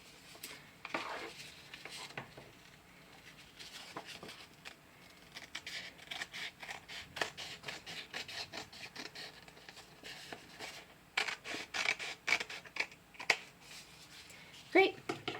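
Scissors snip a strip off a sheet of origami paper, producing scattered small crisp cuts and paper rustles, soft and close, mixed with quiet handling sounds while a person talks.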